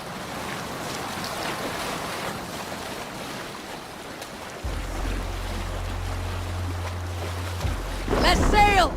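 Viking longship out on open sea in Assassin's Creed Valhalla, with steady wind and wave wash throughout, a low droning hum entering midway, and a brief burst of voices near the end.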